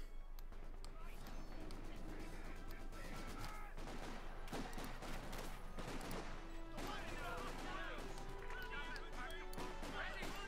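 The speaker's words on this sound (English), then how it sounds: "Just being under fire there from the Vickers." Sustained gunfire from a Vickers machine gun in a competitive multiplayer war game match, steady rattling bursts over constant battle noise with a voice talking throughout.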